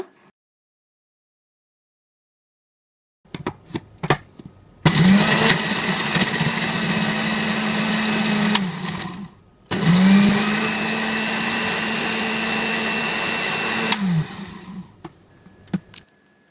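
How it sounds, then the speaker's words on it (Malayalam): Blender crushing roasted dried shrimp into chammanthi powder, two loud sustained motor runs of several seconds each separated by a short pause, preceded and followed by handling clicks and quiet gaps. "ഒരു ബ്ലെൻഡറിലോട്ട് നമുക്ക് പകുതി ഭാഗം ചേർത്ത് കൊടുക്കാം ഇതിനെ ഒന്ന് ക്രഷ് ചെയ്തെടുത്താൽ മതി"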